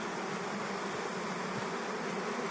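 A dense swarm of honey bees hums at an open hive being sorted frame by frame, a continuous close buzzing with no voices.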